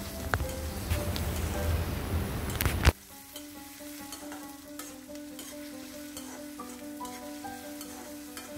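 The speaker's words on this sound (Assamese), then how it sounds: "কেঁচা জলকীয়া দি পেলাই এয়া হেতাখনেৰে লৰাই লৈছোঁ।" Bitter gourd frying with green chili, stirred with a spatula in a hot pan: a loud sizzle with scraping strokes that cuts off abruptly, leaving quieter crackling and faint clinks.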